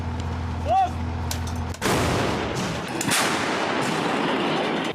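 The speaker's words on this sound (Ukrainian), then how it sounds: "Тут біля турецька гармата показала себе дуже точною і далекобійною зброєю. По готовності вогонь." A single loud blast from a Turkish artillery gun, followed by a long rumbling roar and a second boom, with a voice heard briefly before the shot.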